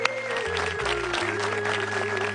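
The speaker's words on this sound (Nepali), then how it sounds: "जोरदार ताली तपाईहरुको लागि" An audience claps steadily at a televised music competition, a dense sustained applause under a held electronic tone and soft music.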